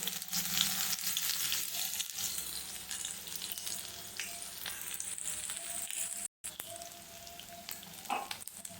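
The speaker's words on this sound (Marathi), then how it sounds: "मी याच्यामध्ये तेल गरम केलेलं आहे आणि जिरे आणि मोहरी टाकून दिलेली आहे. आता ह्याच्यात कांदा टाकून देणार आहेत आपण." Chopped onion fries in hot oil already seasoned with cumin and mustard seeds, giving a continuous crackling sizzle with stirring noises and one brief dropout midway.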